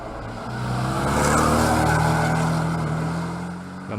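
A 2017 Porsche 718 Boxster's turbocharged flat-four engine hums and swells steadily, building to a sustained drone before easing off slightly, heard close with no voices.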